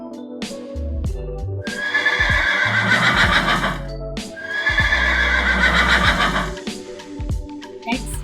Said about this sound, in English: That's right, it's a horse.